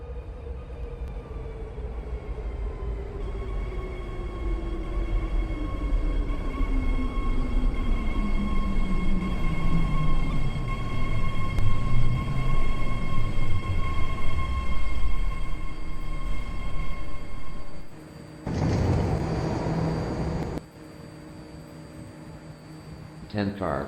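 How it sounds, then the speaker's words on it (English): A ten-car BART train pulls into a station platform, its descending whine and rumbling wheels growing closer and louder over about fifteen seconds, with a tonal hum and a loudspeaker announcement playing over the approach. "Ten car, yellow line, San Francisco Airport Millbrae train now approaching,"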